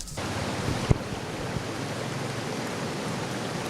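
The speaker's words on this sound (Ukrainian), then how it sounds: "Бачите, трубу порвало, вода йде на дорогу." Water gushes from a burst pipe onto a road in the Carpathian foothills after a storm: a steady, loud broadband rush with no pauses, and one brief thump near the start.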